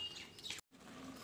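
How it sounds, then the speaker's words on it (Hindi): Faint, high bird chirps sound briefly at a distance over quiet outdoor background, broken by a short gap of silence. "गाइस आपको ये चिड़िया की आवाज सुनाई दे रही है?"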